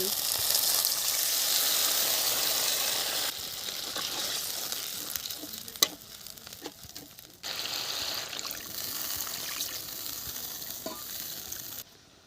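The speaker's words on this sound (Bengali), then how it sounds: "এখন আমি সর্ষে বাটা দিয়ে দিচ্ছি" Mustard paste dropped into a pan of frying spice masala, a loud steady sizzle that comes in bursts with stirring scrapes and soft clacks between them, with no talking.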